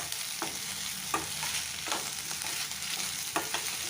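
Vegetables stir-fried in oil with onions and tenli (kundru) and black chana, a steady close sizzle broken by several spoon scrapes and stirring knocks, no talking.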